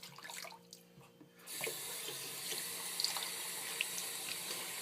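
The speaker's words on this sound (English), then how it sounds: "So we'll clean this razor head off a little bit and get rinsed off" Water tap running at a sink while a razor head is rinsed after shaving; faint quiet start, then the tap opens into a steady close hiss with small splashes of water as the head is rinsed.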